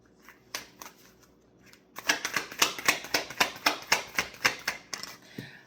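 Tarot cards being handled: a couple of light flicks, then a close, rapid run of crisp rhythmic snaps as the deck is shuffled and cards are pulled, with no talking.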